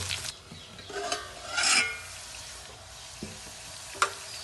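Pieces of tinda vegetable are stirred in a hot pan, giving a soft frying hiss broken by a few scraping strokes and light clicks of the spoon, close and fairly quiet.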